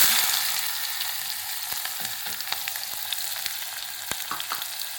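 Chopped onions fry in a pan for brinjal curry, giving a steady close sizzle with scattered pops and light clicks of stirring throughout, and no voices.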